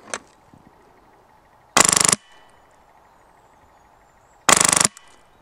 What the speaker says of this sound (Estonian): Ja proovime valangut ka korra.